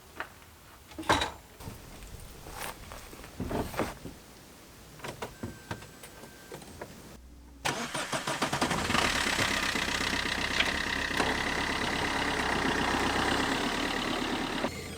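A car's engine starts after several scattered knocks and thumps, then runs at a steady idle, close and fairly loud, while the car is moved at a house under renovation in Portugal.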